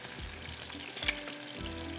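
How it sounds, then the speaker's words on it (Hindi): Half-boiled ingredients for a biryani fry quietly in a pan, making a soft, continuous sizzle broken by a few light stirring scrapes. "इसको थोड़ा मैं इस तरह से फ्राई करती हूँ"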